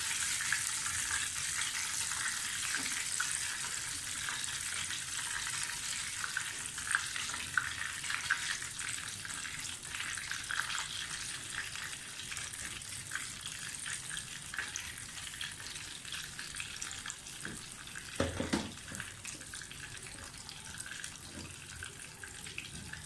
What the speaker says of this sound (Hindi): ऑयल गर्म हो गया, छोटे छोटे पकौड़े डालते हैं।